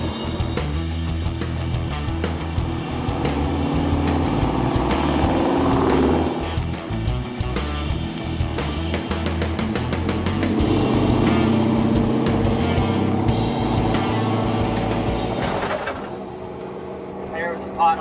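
Classic muscle car cruising on the road, heard from inside as a steady engine and road rumble that carries on throughout, with people talking over it.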